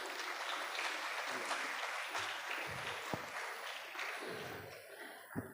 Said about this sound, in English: A huge round of applause, everyone.